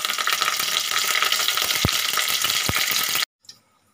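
Cumin seeds and curry leaves crackle and sizzle in hot oil, a steady dense frying hiss with a couple of sharp pops, cutting off abruptly near the end into near silence.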